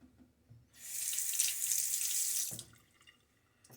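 Tap water runs into a sink to rinse during a wet shave, a close, steady hiss lasting about two seconds before shutting off, with no one talking.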